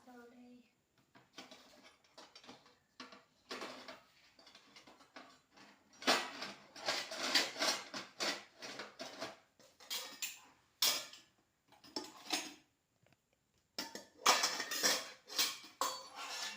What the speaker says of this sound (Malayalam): ഇനി നമുക്ക് പാത്രം എടുക്കാൻ പോകാം.